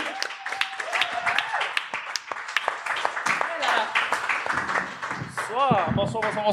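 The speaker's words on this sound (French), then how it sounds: "Tant qu'il est pas rendu sur scène, on l'applaudit." A live podcast audience applauds a guest as he makes his way to the stage, scattered clapping mixed with cheers and shouting voices, with a host calling out over the noise.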